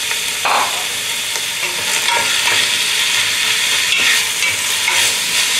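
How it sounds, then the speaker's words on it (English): Seafood chowder with celery being stirred in a pot, a steady scraping and swishing with a soft sizzle underneath, close and continuous with no talking. "Stir this for a few minutes."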